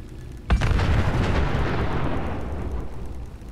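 A sudden loud explosion goes off on entering an area in the video game Fallout 76, a sharp blast followed by a long, heavy rumbling roar that slowly fades over several seconds, with no talk.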